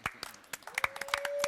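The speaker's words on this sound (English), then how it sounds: "please give us a final cyber applause for Neill Gorton and Christian Tinsley" Scattered, thin clapping from a small audience after a make-up effects session, irregular hand claps close by with a faint tone rising underneath.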